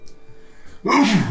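A single sharp, loud sneeze bursts out after a short stretch of quiet, close to the listener.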